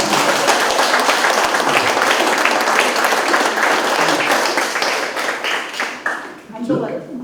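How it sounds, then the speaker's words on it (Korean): A lecture audience claps in a dense, steady burst of applause that fades toward the end, with a voice briefly heard near the close. "다 같이 박수를 좀 감동받았습니다"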